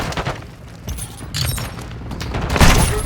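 Gunfire and heavy booms in a Call of Duty: Modern Warfare 2 firefight come in irregular bursts, loud and close, with a stronger blast near the end.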